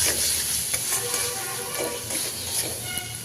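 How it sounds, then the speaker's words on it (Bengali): Spice paste of chilli powder, coriander powder and cumin paste being stir-fried in a pan, giving a continuous close sizzle with repeated stirring scrapes. "মশলাটাকে ভালো করে কষিয়ে নেব।"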